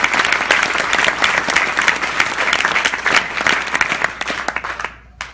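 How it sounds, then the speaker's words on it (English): Audience at a keto presentation gives guests a loud, sustained round of applause, a dense close crowd of clapping that thins and fades out in the final moments. "Give them a huge round of applause."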